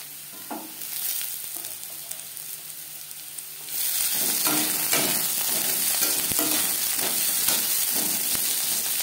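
Potato and cauliflower pieces fry in a pan, quieter at first, then a louder, fuller sizzle as the cauliflower goes in, with repeated stirring scrapes and clatter throughout and no talking.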